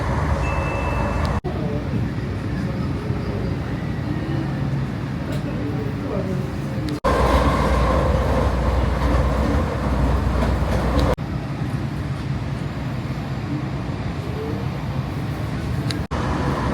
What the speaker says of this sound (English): Not that bad, this tram. It goes pretty quick.